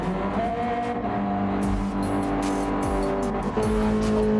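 Race cars in a racing video game slide around a wet Red Bull Ring circuit during qualifying, with a loud, steady engine drone, shifting revs, and tire noise running throughout.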